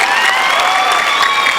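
A high school graduation audience claps steadily in dense, continuous applause, loud and close, with a faint cheer or whistle mixed in.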